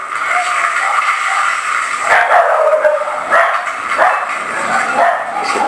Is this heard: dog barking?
yes